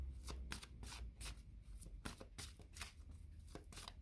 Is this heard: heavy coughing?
no